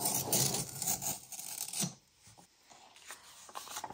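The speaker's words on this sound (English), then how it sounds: "So I'll just take a letter opener." A letter opener slits open a large envelope in a short burst of papery rasping and tearing, followed by quieter rustling and handling of the paper.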